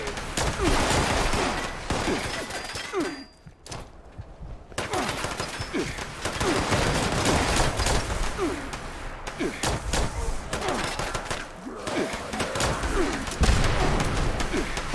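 Sustained gunfire in Fallout 76, with bursts of rapid shots and heavy thuds that continue almost without a break, broken only by a short lull, under occasional talk.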